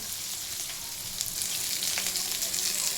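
Garlic fries in hot oil in a pan, giving a loud, continuous sizzle close by with a few brief stirring scrapes and no voices.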